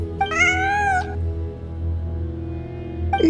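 A cat meows once inside the Genshin Impact game world, a clear rising-and-falling call over a steady low ambient hum and soft game music, followed by quiet background tone and a faint chime near the end.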